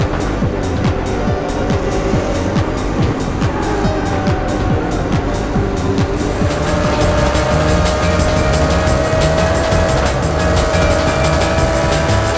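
Race cars in the Test Drive Le Mans video game roar past in an endurance race replay, a continuous loud engine drone with rising whine and overlapping passes, no talk.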